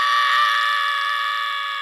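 A voice imitates Neville's terrified scream: a loud, sustained high-pitched shriek held for under two seconds, slowly fading, with no other sound.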